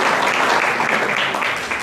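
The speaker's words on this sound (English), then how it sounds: "give yourselves a round of applause for this" Audience at a neighborhood watch meeting applauding, a dense, steady wash of clapping from many hands, loud and continuous throughout the short stretch.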